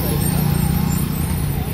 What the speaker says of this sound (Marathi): टोटल मूविंग ट्रॅफिक आहे.